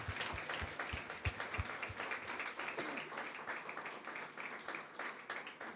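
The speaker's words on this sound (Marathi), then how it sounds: "जरा टाळ्या वाजवा" A church congregation claps during a Sunday sermon, a brisk run of sharp claps near the start giving way to a dense, steady wash of applause from many hands.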